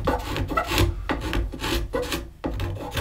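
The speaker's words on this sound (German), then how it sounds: "Zu guter Letzt kratzt er nacheinander mit einer Schwanenhalsklinge, einer Konkavklinge" Swan-neck and concave scraper blades rasp over wood while carving out a knot hole on a recurve bow, a close run of rhythmic strokes repeating about every half second.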